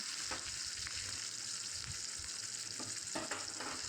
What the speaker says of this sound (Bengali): পেঁয়াজটা হালকা ভাজা হলে তারপর শাপলাটা দিয়ে দেবো।